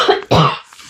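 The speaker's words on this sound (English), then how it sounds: "Excuse me, that cough will not stop. That scratchy, dry cough." A dry, scratchy cough, two harsh bursts in quick succession, close and loud.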